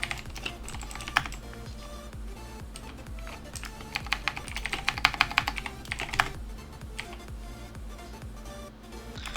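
Rapid typing on an English-layout computer keyboard during a Minecraft Survival Games session, a steady clatter of close key clicks with denser bursts mid-clip and a low game hum underneath.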